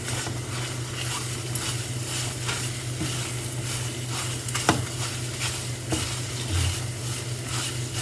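Scrambled eggs topped with cheese cooking in a pan with the burner switched off, giving a steady soft sizzle with occasional scraping and stirring clinks, close and continuous with no talking.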